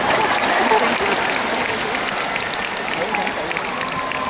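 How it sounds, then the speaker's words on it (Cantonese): Concert audience applauding at a 2025 live show, a dense, steady wash of clapping that fills the hall throughout, with a voice speaking faintly beneath. "掌聲"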